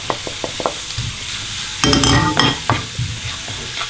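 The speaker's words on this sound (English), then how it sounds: "I'm going to add the Kashmiri Mitch and the Garum Masala to it" Kashmiri mirch and garam masala hit hot oil in a pan taken off the heat for dal makhani, giving a loud, close sizzle with stirring scrapes and crackling bursts.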